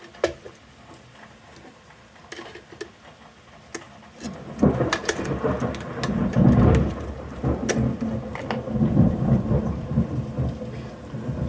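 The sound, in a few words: thunderstorm with rain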